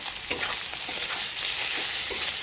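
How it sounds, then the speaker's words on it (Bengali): Shredded meat and green chillies fry in a pan, a steady close sizzle and crackle with soft scraping as the mixture is stirred, no voices. "তারপরে এরকম করে নেড়ে একটু ভালো করে কষিয়ে নেব।"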